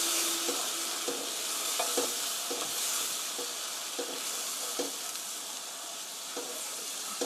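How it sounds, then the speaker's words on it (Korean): Spaghetti sauce with milk for broccoli spaghetti being stirred in a pan, a steady sizzling simmer broken by regular spoon strokes scraping the pan bottom, close and even throughout. "이렇게 저으면서 농도를 봐가면서 이렇게 저어주시고요"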